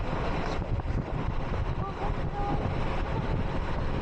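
Hanasaki Line train running through greenery with a window open, giving a loud, steady rumble and rush of wind throughout.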